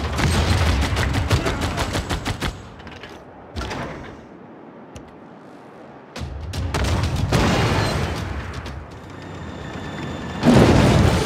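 Artillery gunfire rings out in a Warhammer-themed Civilization 6 game, loud clusters of booming shots separated by quieter gaps, then a final burst, with no talking.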